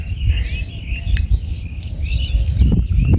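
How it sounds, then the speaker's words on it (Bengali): Birds chirp faintly in open green crop fields, with thin scattered calls over a constant low rumble of wind. "পাখির ডাক"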